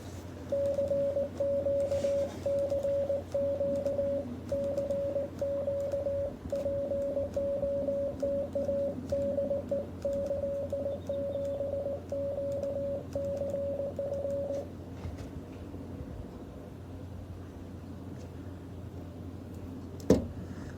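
Morse code calls keyed on an amateur radio during a Parks on the Air activation, a clear single tone beeping in dots and dashes for about fifteen seconds over a low hum, then stopping.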